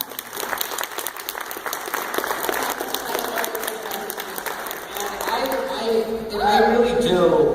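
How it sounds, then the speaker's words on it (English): Audience at a live debate event giving a round of applause, a dense, continuous wash of clapping from a sizeable crowd that swells toward the end, with some voices and cheers mixed in. "Give a round of applause."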